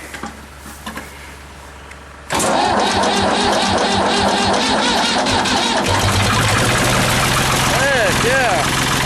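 A cold engine is jump-started with a portable booster pack: a brief cranking burst catches into a loud, steady mid-pitched idle that carries on up close, with faint talk before the start.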